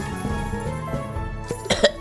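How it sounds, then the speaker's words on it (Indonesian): A single cough bursts out near the end, after a short stretch of faint background game music. "Batuk."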